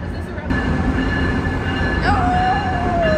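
A train rumbles past at close range on the rails, steady and loud, and a high metallic wheel squeal rises and drifts downward over the roar.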